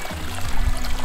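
Water flows and splashes continuously nearby in a brief burst of babbling stream sound.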